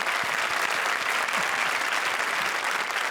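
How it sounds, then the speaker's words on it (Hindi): A studio audience on a comedy show breaks into strong applause, dense continuous clapping that stays loud and full without letup for the few seconds shown. "जोरदार तालियां शान शकील के लिए"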